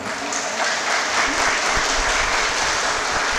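Crowd applause at a 77th Independence Day event at a law school, steady and dense clapping filling the whole stretch without pause, fairly loud and close.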